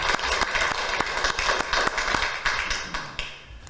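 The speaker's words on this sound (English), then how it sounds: "I'm going to ask for another round of applause" Council meeting audience giving a round of applause, steady dense hand clapping at moderate volume for a few seconds, thinning out and fading near the end.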